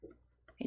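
A mouse click in a smartphone app coding editor while selecting a background colour: a couple of quick, faint clicks, close and dry, with a brief burst of speech at the end.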